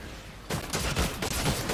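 Rapid bursts of dual-pistol gunfire in a video game, a dense run of quick shots that stays loud and close for under two seconds.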